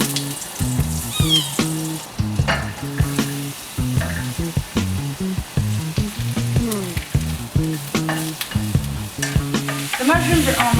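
Mushrooms and garlic frying in olive oil and butter in a pan: a loud, continuous sizzle broken by frequent stirring clatters, with a tonal chirping sound recurring throughout and no speech.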